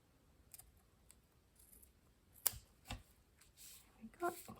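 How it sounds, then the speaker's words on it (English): Scissors snip at the edges of a paper card, cutting it at an angle: a few sharp, close clicks and crisp cuts spaced irregularly over several seconds, with quiet rustling of the paper in between. "trim the edges at an angle."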